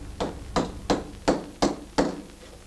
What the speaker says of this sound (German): Auf der Werkbank ist ein Amboss montiert, auf dem er ein Stück Bandeisen zum Reifen formt.